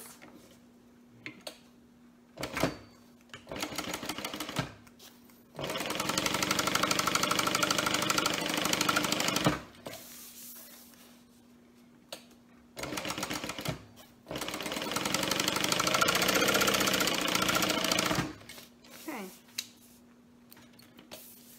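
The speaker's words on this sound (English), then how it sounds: "we're going to go ahead and baste down these long edges" Sewing machine basting down long fabric edges, running in several sustained bursts separated by pauses, with a steady mechanical whir and ticking close by.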